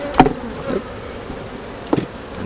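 Honeybees buzz during a beekeeping hive inspection, a low drone with a few short, louder bursts as bees pass close, plus faint knocks from handling the hive, with no voices.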